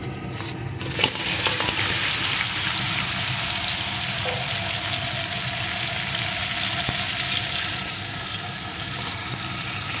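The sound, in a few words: crabs rubbed with salt and turmeric frying in oil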